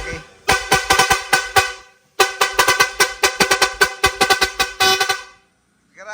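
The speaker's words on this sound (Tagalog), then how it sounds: "nag-install ng universal Yankee horn" A gold dual-trumpet universal Yankee air horn installed on a 4BC2 twin-turbo truck blasts in loud, rapid repeated honks, two volleys of staccato toots separated by a short pause.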